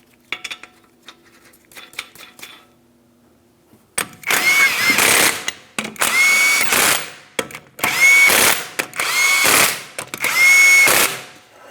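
A power tool spins 21mm lug nuts onto the front wheel of a 2015-2025 Ford Transit 250, firing in four loud, whining bursts of a second or two each after a quiet start.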